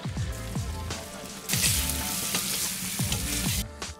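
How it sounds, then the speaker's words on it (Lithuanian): Carrots fry in leftover meat oil in a kazan outdoors, a loud steady sizzle with spatula stirring scrapes and crackles, swelling louder midway, no voices. "nupilu didesnį dalį aliejaus ir šiek tiek palieku morkom apkepint, kad jos šiek tiek suminkštėtų"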